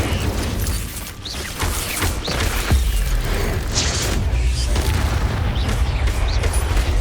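Incendio fire spells cast in Hogwarts Legacy on PS5, a dense run of whooshing bursts and booming impacts with mechanical clatter, loud and continuous with no gaps, under a lively game soundscape.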